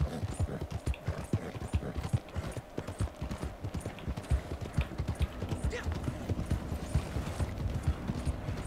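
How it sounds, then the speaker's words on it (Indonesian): Horse-drawn carriage in the Red Dead Online video game, with steady rapid hoof clip-clops rolling along continuously at close range over a low rumble of wheels. "tiba-tiba ada kereta kuda di depan"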